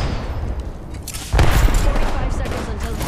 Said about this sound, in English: Tossing an Arc Star.